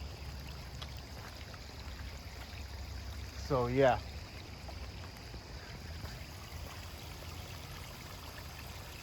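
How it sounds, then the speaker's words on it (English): A nearby river flows in a steady, soft wash of water that runs continuously in the background, with a short voice and a brief tonal sound partway through. "I believe there's like a river close by here too"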